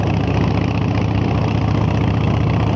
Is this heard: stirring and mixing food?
no